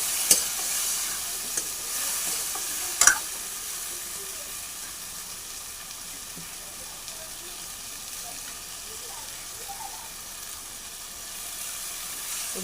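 Pigeon meat cooking in a pan as ground spices go in, giving a steady soft sizzle and stirring scrape with a couple of sharp knocks early on, close and fairly quiet throughout.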